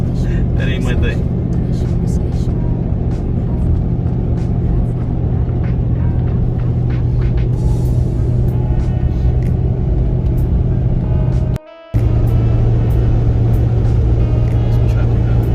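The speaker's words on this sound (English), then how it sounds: "Some traffic now." Road traffic rumbles past a car moving through the desert scenery of Big Bend National Park, a steady near engine drone with vehicles passing; someone talks over it.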